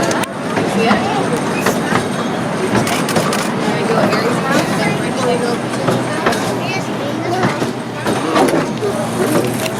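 Zoo train crossing a 103-year-old historic trestle, a continuous rumble with repeated clacking and rattling of the cars, close by and loud, with passengers chatting over it throughout.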